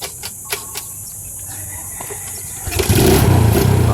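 A Suzuki Smash 115 motorcycle engine starts after a few faint mechanical clicks, then settles into a loud, close, steady running note.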